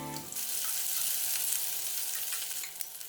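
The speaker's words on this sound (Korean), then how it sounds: "팬을 중약불에 올리고 식용유 3스푼, 해동된 미트볼 넣고 골고루 색깔을 내줬다" Thawed meatballs brown in three spoonfuls of cooking oil in a pan over medium-low heat, giving a close, loud, continuous sizzle that stays even throughout, with a few faint pops. No voices.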